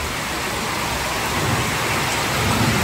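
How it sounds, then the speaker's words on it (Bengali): Heavy monsoon-style rain pouring down outdoors, a dense steady hiss and roar of water hitting surfaces, loud and unbroken without any voices. "দেখ বৃষ্টি কি বৃষ্টি"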